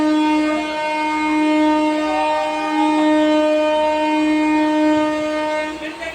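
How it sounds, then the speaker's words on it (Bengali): A train horn blows as one long, steady, loud blast with layered harmonic tones, sustained for most of the stretch over a low rumble of the passing train, fading slightly at the end. "ট্রেনের একবারই হর্নটা দিতে হলো"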